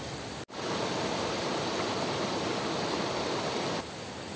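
The Madlum River flows near Zamora Falls, a steady, dense rush of water that fills the whole moment without a break, close and constant, with no voices over it.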